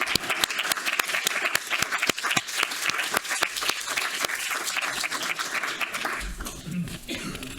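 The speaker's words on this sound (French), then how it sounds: "je pense qu'on peut applaudir pour tout le travail qu'ils ont fait" A conference audience claps steadily for several seconds, dense and sustained applause that tapers off near the end as a voice begins speaking.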